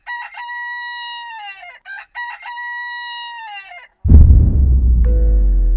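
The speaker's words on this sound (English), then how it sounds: "After his words, the rooster crowed twice." A rooster crows twice in a row, loud and close, with long drawn-out calls; after the second crow a low rumbling noise takes over.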